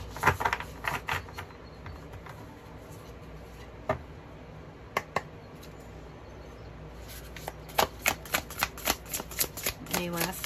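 Tarot cards being shuffled close up, bursts of riffling and snapping card edges in quick uneven runs, with a voice speaking faintly in between.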